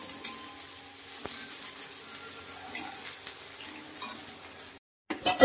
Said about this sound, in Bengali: তো পেঁয়াজটা একটু ভাজা ভাজা হয়ে গেছে